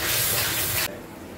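Stock poured into a hot pan of chicken for a Bengali chicken bharta, a loud burst of steamy hiss and sizzle that cuts down sharply after a second to a quieter frying simmer.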